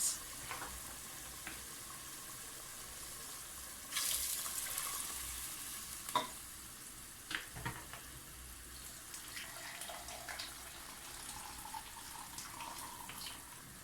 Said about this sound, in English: I'm going to use 2 cups of rice, so I'm going to use 4 cups of hot water